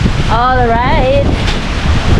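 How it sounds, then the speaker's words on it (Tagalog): Strong wind on a canopy walk in El Nido, Palawan buffets the microphone with a constant roaring rush, while a voice speaks briefly over the blustery noise. "Lakas ng hangin."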